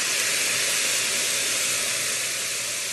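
Balsamic vinegar hits cooked shallots in a hot pan, giving a loud, steady, broadband hiss of steam that holds evenly for about three seconds with no talk.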